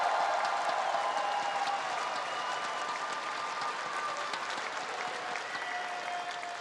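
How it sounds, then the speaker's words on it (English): A packed arena crowd in Vancouver applauds and cheers for the MSI esports champions after the grand finals, a dense, roaring wash of clapping that stays loud and continuous throughout. "Vancouver, please a round of applause one last time for your champions."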